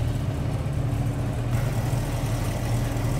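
A 1969 Ford Torino GT 351 four-barrel V8 idles smoothly and evenly, close by, with a steady low rumble and no revving, no voices.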